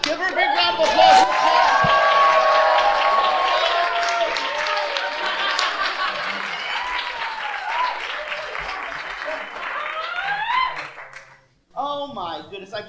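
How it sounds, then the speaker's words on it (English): A comedy show audience bursts into loud applause with cheers and whoops, a dense clapping wash that gradually fades over several seconds, then a voice speaks after a brief gap. "Give her a big round of applause."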